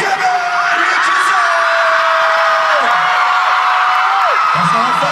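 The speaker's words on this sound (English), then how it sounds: "Give it a round of applause!" A loud concert crowd at a show roars and whoops continuously, with sustained yelling voices rising and falling over a dense cheering din.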